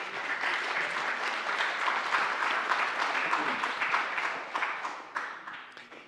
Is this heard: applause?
yes